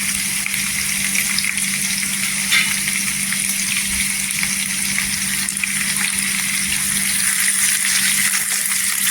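Garlic and green chillies fry in a pan for potato methi bhaji, giving a steady, even sizzle throughout with light stirring scrapes and no voices.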